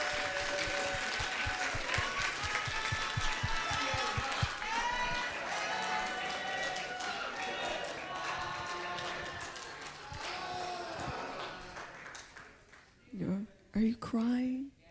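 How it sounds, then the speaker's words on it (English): An audience at a school year-end honor roll chapel claps for the seniors, a steady patter under cheering voices and loud talk that fades near the end. "Let's give our seniors a round of applause."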